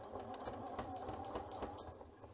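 A Janome C30 sewing machine runs fast and steadily, stitching through fabric with a rapid mechanical chatter, a quiet hum under even ticking and no voices.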